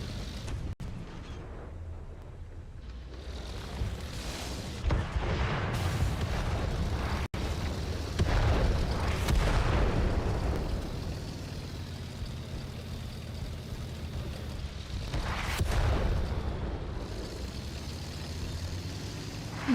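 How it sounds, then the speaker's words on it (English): Several heavy shell and missile blasts in World of Tanks on console, booming bursts rising out of a constant rumbling tank engine drone, with one close impact standing out and others spaced irregularly. "A bit of a close missile."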